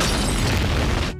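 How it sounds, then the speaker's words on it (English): A huge cartoon explosion blows up a house in The Simpsons: one loud, dense, sustained boom and roar filling the whole clip, cutting off abruptly at the very end. "Matt Groening's solution was to blow the whole house up"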